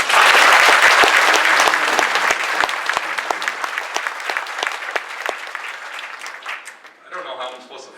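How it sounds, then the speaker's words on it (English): Loud applause from a graduation crowd for the Nixyaawii Community School class of 2016, dense clapping that thins into scattered individual claps and fades over about seven seconds, with faint voices at the very end. "Let's give them a round of applause."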